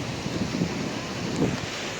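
Cool sea wind blowing across the open causeway at Haji Ali Dargah in Mumbai, a steady broadband rush with soft buffeting against the microphone and distant surf, brief and unbroken.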